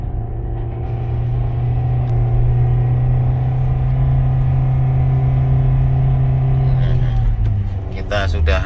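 A manual-transmission 2022 Toyota Veloz FWD engine labors steadily up an extremely steep mountain road at Ijen, a loud, sustained low drone that shifts near the end with some clattering noise.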